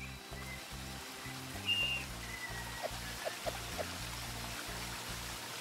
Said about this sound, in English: That waterfall sound, I like it.